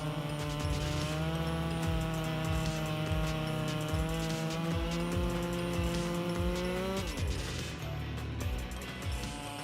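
A Stihl 46 chainsaw with a 20-inch bar and 5.2 horsepower motor roars steadily while cutting old oak logs, its engine pitch holding high then dropping near the end of the cut, loud and close.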